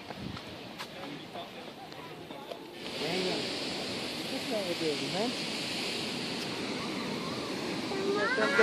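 Ocean surf washes against the rocky shore at Peggy's Cove as a steady, broad roar that swells louder partway through, with voices and whistling wind-like tones drifting over it.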